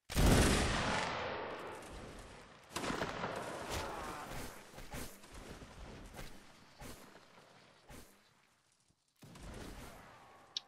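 Musket volleys in a Napoleonic Wars line battle game, a loud opening crash followed by scattered sharp shots at varying distances, fading to near silence before a final burst.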